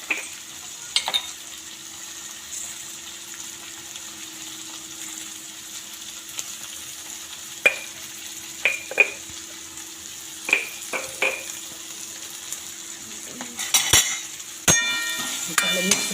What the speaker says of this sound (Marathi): ह्याला छान आता मिक्स करून घ्यायचं त्याबरोबर चवीनुसार मीठ